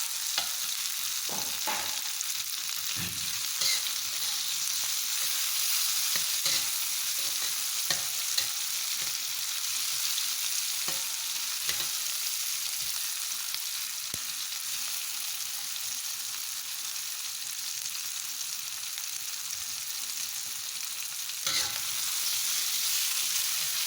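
Mushrooms and tomato stir-frying in a pan, a steady close sizzle running throughout with occasional scrapes and clacks of a utensil stirring.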